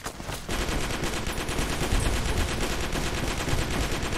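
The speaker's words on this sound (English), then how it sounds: "Suppressing fire!" Sustained rapid suppressing gunfire in a video game set in a deep hellhole of a canyon, loud and dense bursts running almost continuously after a brief quieter opening, with no voices over it.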